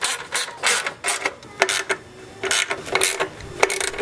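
A ratchet tightens bolts on a heat-shield tin of a Porsche 3.2 Carrera during transmission-to-engine mating, giving close, rapid clicking bursts separated by short pauses.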